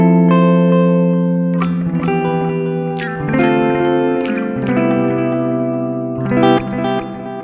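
Electric guitar played through a BOSS RV-6 reverb pedal in +Delay mode, sustained chords and lead notes ringing with clear repeating echoes and a wide reverb wash, loud and close with no talking.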